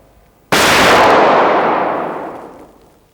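A single sharp gunshot at a firing range during shooting practice, loud and close, with an abrupt crack followed by a long decaying reverberant tail lasting about two seconds.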